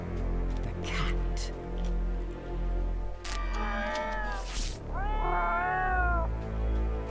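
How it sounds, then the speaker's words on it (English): Cats meow in the Dungeons & Dragons Online video game, two drawn-out rising and falling meows in sequence over a steady low background hum. "The cat."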